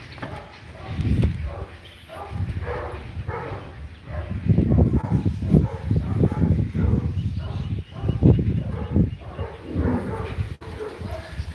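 Dogs bark repeatedly at a moderate distance outdoors, with several sharp barks and yips over a continuous stretch and some faint background talk.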